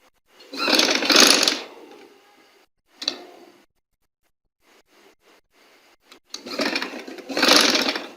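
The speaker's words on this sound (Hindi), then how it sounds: "अब हमने साइड से फोल्डिंग करके सिलाई लगा लेनी है" A sewing machine stitches a folded suit neckline in two loud, rapid whirring bursts separated by a short burst and quiet handling clicks, close up with no talking.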